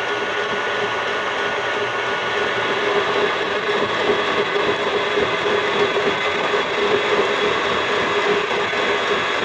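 An electric mixer whirs continuously as it beats cake batter for a Queen of Sheba cake, a steady, loud mechanical hum with faint scraping and rattling throughout and no speech.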